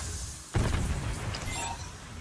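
Explosions in a chaotic video game, a sudden heavy boom followed by a continuous dense rumble of blasts and debris.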